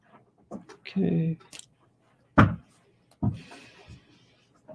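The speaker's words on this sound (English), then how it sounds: "everyone can hear you yawning" A drawn-out, breathy vocal sound with a rising then falling tone, like a long yawn, between a few short thumps and brief vocal noises nearby.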